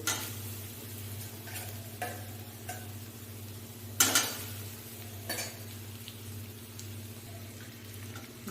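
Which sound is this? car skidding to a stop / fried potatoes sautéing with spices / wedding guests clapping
fried potatoes sautéing with spices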